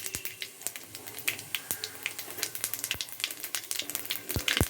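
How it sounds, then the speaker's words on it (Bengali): Dried red chillies and cumin seeds spluttering in hot oil as a tempering for winter khichuri, giving sharp, scattered crackles and pops over a low, steady sizzle, fairly close and moderately loud. "এর মধ্যে দুটো শুকনো লঙ্কা আর একটু সাদা জিরে ফোড়নে দেব"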